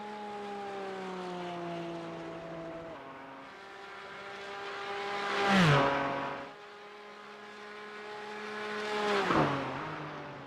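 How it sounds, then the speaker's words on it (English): Race car engines in iRacing, including a McLaren, whine and rev, pitch climbing and then dropping sharply as cars sweep past, rising to two louder peaks at moderate distance. "I think iRacing did a fantastic job with the engine note on the cars right now."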